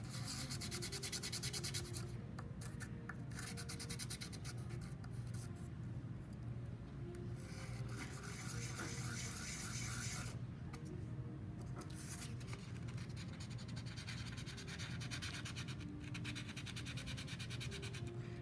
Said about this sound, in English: Sand that side off so it's nice and flat.